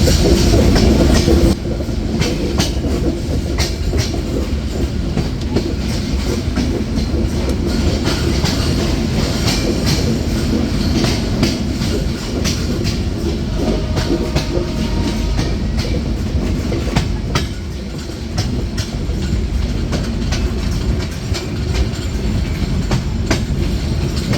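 The Drutojan Express train running on rails past Ishwardi bypass, a loud continuous rumble with rhythmic clickety-clack and brief squealing from the wheels, heard from on board.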